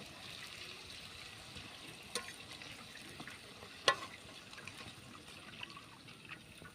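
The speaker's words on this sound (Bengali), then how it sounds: "একই রকমভাবে সবগুলো আমি ভেজে নেব" Soft, steady sizzling of food frying in oil, a low continuous crackle with a couple of brief louder pops; no one speaks.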